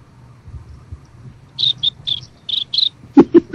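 Short, high chirps come in a quick series over a faint, low background, followed by a few lower, louder bursts at the end.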